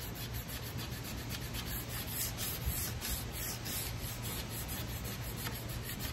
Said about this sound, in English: now we're at the point where we want to take off just a little material at a time, and I like the cabinet scraper for this